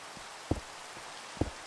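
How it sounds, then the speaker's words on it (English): Rain falling in the Minecraft modpack All The Mods 6, a steady soft hiss of rainfall with two dull, brief thumps standing out partway through. "I am so tired of this rain"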